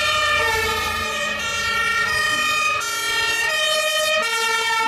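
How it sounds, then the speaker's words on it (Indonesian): A fire engine siren wails steadily and loudly, its rising and falling tonal sweeps repeating throughout over a faint vehicle rumble, with no talking. "ternyata ini mobil pemadam kebakaran"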